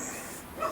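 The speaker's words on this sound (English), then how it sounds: "I think my dog's trying to get my attention." A pet dog at home gives short yips and whimpering barks, brief and close, over a steady background hiss with no talking.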